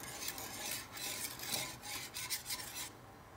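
A utensil scrapes and rubs rhythmically against a pot of thickening orange hot chocolate, soft close strokes repeating several times before stopping near the end.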